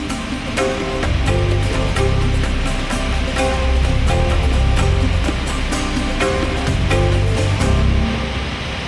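Roaring Victoria Falls on the Zambezi, a huge volume of water plunging over 100 metres into a gorge, heard as a loud, steady wash of broad rushing noise that swells and eases gently throughout, with no voices.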